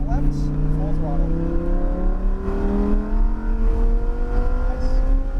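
A Lamborghini at full throttle on a race track revs hard, its engine tone climbing steadily and loudly from inside the car, while a person speaks over the roar.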